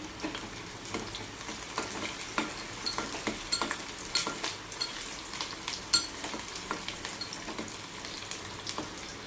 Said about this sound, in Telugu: ఆయిల్ వేడాక అండ్ ఆవాలు ఆ ఫ్రై అయ్యేదాకా కొంచెం టైం పడుతుంది